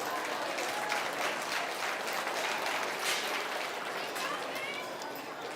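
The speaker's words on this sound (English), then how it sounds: "Let's give these kids a big, big round of applause." A crowd in the stands at the North Idaho State Fair swine showmanship claps for the young exhibitors, a broad, continuous wash of applause at moderate distance with a few voices mixed in.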